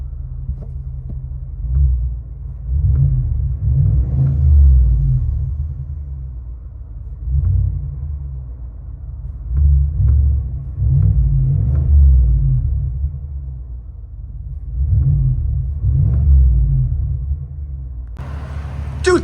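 Inside the cabin of a 2023 Cadillac Escalade 600, the 6.2L V8 through a Borla S-Type muffler-only exhaust gives a muffled low rumble that swells in repeated rev bursts, with a brief click at the end.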